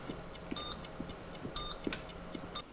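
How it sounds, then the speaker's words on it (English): Repeated electronic beeping from an armed bomb in the tactical shooter SWAT 4, short high tones pulsing steadily over a low background hum, with no talk. "You hear that beeping sound?"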